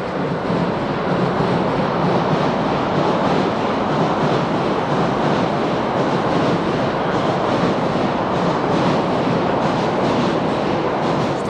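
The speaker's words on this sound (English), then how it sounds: "Ooh, that train." A train in Tokyo rumbles past close by, a loud, continuous roar with a faint rhythmic clatter of wheels on the rails throughout.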